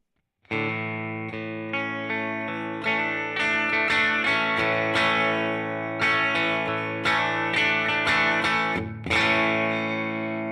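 An effects-laden bass through tremolo, compressor and delay on a Fender Tone Master Pro plays sustained notes and short phrases, with a pulsing wobble and echoing repeats trailing each note.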